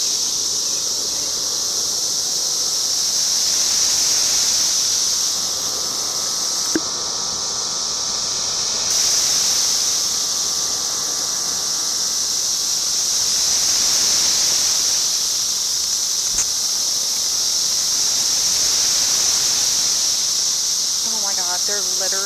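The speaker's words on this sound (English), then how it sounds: "The cicadas are literally screaming." Cicadas swarm outdoors in Ohio during a mass emergence, making a loud, continuous high-pitched buzzing drone that swells and fades in slow waves, with brief handling bumps.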